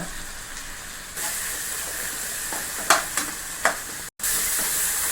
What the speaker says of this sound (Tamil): இப்போ தக்காளி சீக்கிரமாக வதங்கினா நம்ம கூட கல்லுப்பு கொஞ்சம் போட்டோம்னா நல்லா குயிக்காக வெந்துடுங்க.